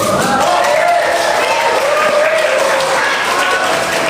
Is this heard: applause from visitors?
yes